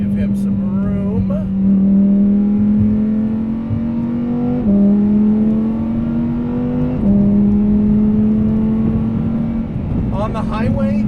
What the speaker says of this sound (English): On the highway, the sport mode is pretty drony.